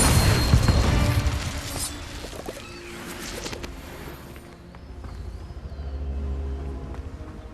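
A fire spell cast in Hogwarts Legacy, with an opening boom and crackling burst that trails off into quieter magical shimmering and rumble, no talking.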